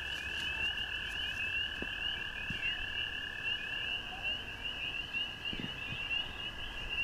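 Frogs croak at night in a continuous high, trilling chorus that holds steady throughout, with a few faint clicks and knocks underneath and no talking.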